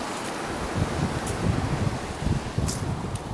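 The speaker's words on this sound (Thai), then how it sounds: "ลมแรงพี่น้อง" Steady, strong wind roaring across the microphone at the seashore, with a low rumbling buffeting and faint hiss throughout; no voices.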